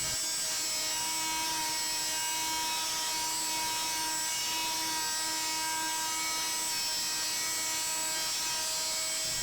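A Dremel Multi-Max MM50 oscillating multi-tool buzzes at a constant high pitch, sanding wood into tight corners with a continuous abrasive whine that holds steady the whole time.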